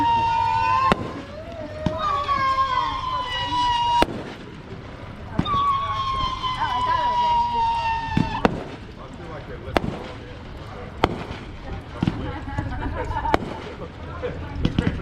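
Fireworks at a town display in Southern View, Illinois, pop and crackle in repeated bursts, some sharp and close, while people cheer and talk over them and a siren-like whistle rises and falls.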